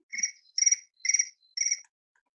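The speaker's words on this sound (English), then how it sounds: "I just heard cricket" Four evenly spaced cricket chirps, each a short trilled burst of about a quarter second, sound clearly and fairly close against an otherwise silent background.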